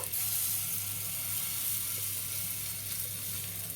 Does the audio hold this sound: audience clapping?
no